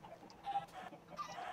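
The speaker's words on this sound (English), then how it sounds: "we have our grown-up chickens in here" Grown-up chickens penned in a Minecraft farm trap cluck in a few short, soft bursts close by.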